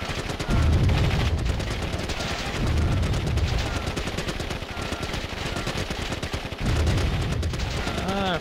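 Dense rapid gunfire and bursts of combat rattle on from the Warzone 2100 strategy game battle, loud and continuous with heavier surges, with a voice talking faintly underneath.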